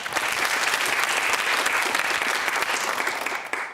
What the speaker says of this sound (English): Very nice of you to applaud the opposition.